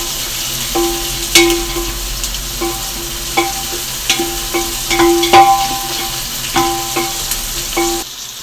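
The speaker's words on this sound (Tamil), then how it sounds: "இப்போ வெங்காயம், பச்சை மிளகாய், தக்காளி எல்லாம் ஓரளவுக்கு வதங்கிருச்சு." Onions, green chilies and tomatoes sizzle gently in a pan for pulao while a utensil scrapes and taps against it every second or so, close up and with no talking.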